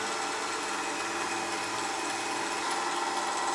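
Continuous, fairly quiet whirring hiss of a spinning wooden woodturning piece on a lathe being sanded with fine-grit sandpaper, steady and unbroken throughout.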